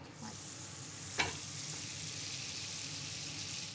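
Butter foams and sizzles steadily in a frying pan before pork fillets go in, a loud, continuous hiss close by with one brief clink of a utensil.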